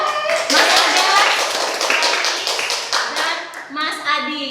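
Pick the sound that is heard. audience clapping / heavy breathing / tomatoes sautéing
audience clapping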